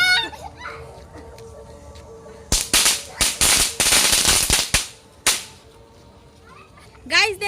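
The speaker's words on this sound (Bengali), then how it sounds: "এটাকে দেশলাই বাজি বলা হয়। এটাকে আমরা ধরাবো, এখন ফেলে দেবো, চটপট করে ফুটবে" Matchstick firecrackers set off during Durga Puja celebrations, a rapid crackling burst of sharp loud pops and snaps lasting a couple of seconds, followed by a few scattered later cracks.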